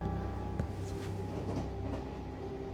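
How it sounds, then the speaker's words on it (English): Train from the animated film Spirited Away, a steady rolling rumble with faint rhythmic clatter of wheels on rails, continuous and moderately loud with no talk. "A train with a bunch of other ghosts."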